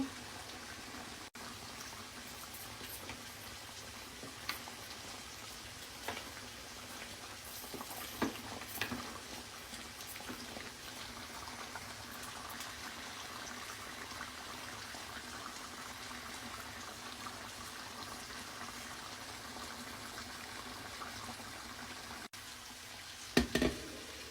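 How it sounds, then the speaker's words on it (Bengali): Cooked chicken being stirred in a pan on a stove, producing a soft, steady sizzle with occasional scraping taps of the utensil against the pan and a louder clatter near the end. "এখন জাস্ট নেড়ে ছেড়ে চুলাটা বন্ধ করে দিব"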